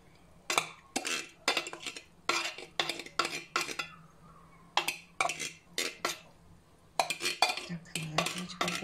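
Sweet corn is tipped and scraped into a bowl of tuna salad with a utensil, giving rapid, close metallic clinks and scrapes in bursts, repeated steadily with brief pauses and no voice.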